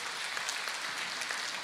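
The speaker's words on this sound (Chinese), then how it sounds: "让我们再次以热烈的掌声感恩卢军宏台长为我们带来的精彩开示。" Audience applause at a Buddhist gathering in Melbourne, Australia, a dense, steady wash of many hands clapping that fills the whole moment without pause.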